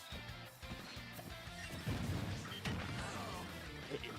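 Down smash attacks land in a Super Smash Bros video game, giving several sharp crashing hits in quick succession over dense game music and effects.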